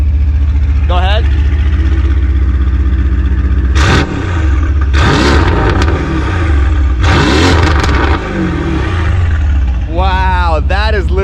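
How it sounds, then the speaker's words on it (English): A loud 2019 Mercedes C63 AMG engine revs repeatedly through an open exhaust, roaring up and dropping back between bursts, with a few voices briefly heard. "Let's do some revs with closed and open exhaust."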